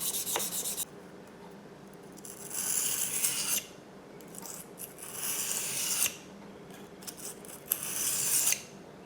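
Steady scraping of a grafting knife blade being reshaped on a SHARPAL dual-grit diamond sharpening stone, close and fairly soft, in long back-and-forth strokes with short breaks.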